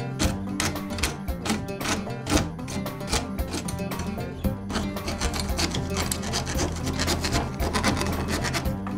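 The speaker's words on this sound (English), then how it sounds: "With a file, deburr the cut edges on both sides." A hand file deburring the freshly cut edges of a PVC pipe, giving continuous rapid scraping and rasping strokes, close and fairly loud with no talk.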